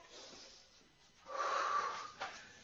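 A single heavy, deep exhale during an exercise workout, a close breathy rush that swells loud and ends with a short sharp puff of air.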